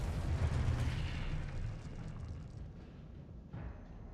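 A Confringo explosive spell cast in Hogwarts Legacy, a dense rumbling blast that fills the clip and slowly fades, with a smaller burst near the end.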